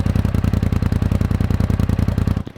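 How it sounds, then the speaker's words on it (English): A 2025 Polaris RZR Pro S side-by-side idles with a deep, throaty exhaust that pulses in a steady rapid rhythm like a big motorcycle, loud and close, cutting off abruptly at the end. "the exhaust note on this is actually pretty nice. It sounds kind of like a beefy motorcycle."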